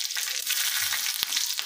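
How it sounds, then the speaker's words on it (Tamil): Green chillies and mustard seeds frying in hot coconut oil, a steady close crackling sizzle with a few sharper pops throughout. "எண்ணெய் காஞ்ச உடனே இதில் கொஞ்சம் கடுகு சின்ன வச்சு கொஞ்சம் தேங்காய் எண்ணெயில் எடுத்து பொரிக்கணும்"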